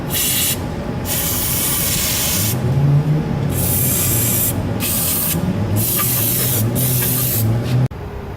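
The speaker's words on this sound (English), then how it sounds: "So you want to spray the seams in there, and also the gas door." Loud, close hissing of an aerosol rust-protection spray into car body seams and the gas door area, in several bursts of a few seconds each, with short pauses between, and no talking.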